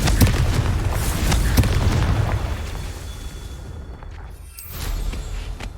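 A fiery Confringo spell explosion in Hogwarts Legacy bursts loudly with a deep boom, rumbles and fades, then a smaller second burst flares near the end, with no voices.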